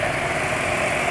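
A petrol motorcycle engine runs at a steady idle, a continuous even rumble that stays close and fairly loud throughout, with no talking.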